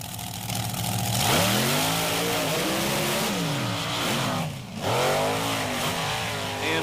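Monster trucks, including the Bigfoot Ford, launch off the starting line in a beach race, their engines roaring loudly and rising in pitch through repeated revving sweeps under a constant crowd and ambient wash.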